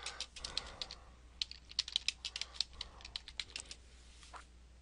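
Fingers tap out a search on a computer keyboard in quick, irregular bursts of close, crisp keystrokes, with brief pauses between words.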